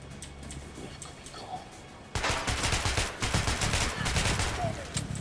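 Rapid automatic gunfire in the Metro Last Light video game erupts after a quieter stretch, close and loud bursts of repeated shots continuing to the end.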